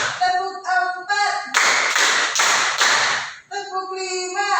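Hand clapping in a classroom, a group clapping in a short burst of loud, rhythmic claps after and before sung or chanted voices, with several sharp claps in steady sequence.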